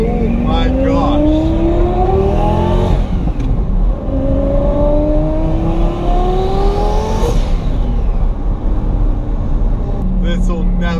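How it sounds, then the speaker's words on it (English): A twin-turbo Lamborghini Gallardo accelerates hard, its engine rising in pitch through successive gears with brief dips at the shifts. It is loud and close, with turbo whine over the roar. "when you drive a twin turbo UGR Lambo, you will see why it's hard to control yourself when it makes the sounds it does"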